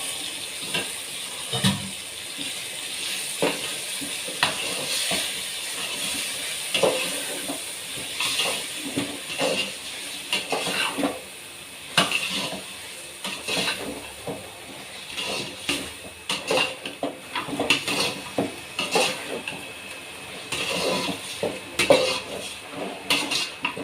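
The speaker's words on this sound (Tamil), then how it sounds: "நல்லா வெங்காயம் வதங்கிடுச்சு" Onions sautéing in a pan for quail gravy, a steady hiss and sizzle under frequent clinks and scrapes of a metal spoon against the pan, continuous and close, with no talking.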